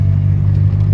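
Toyota Corona coupe hardtop with a 2.0 engine pulling gently in third gear, a steady low engine drone close by inside the cabin, even and unstrained for the whole second.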